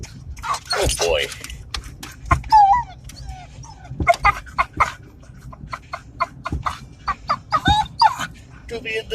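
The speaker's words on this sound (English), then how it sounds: "at the dog park" Dogs at a dog park whimper and yelp in short, high-pitched bursts, close by and excitable, scattered throughout while a person talks and jingling and shuffling noises mix in.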